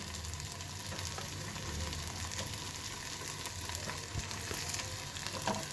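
Potato bhaji is stirred and sautéed in a pan, with a steady crackling sizzle, occasional soft scrapes of a spoon, and no talking.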